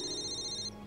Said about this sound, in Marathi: जय सरांचा फोन.